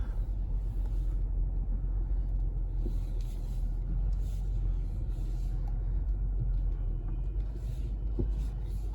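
An Infiniti QX80 SUV reverses slowly at night, a low steady engine rumble with faint road noise and a few soft clicks, with no other sound.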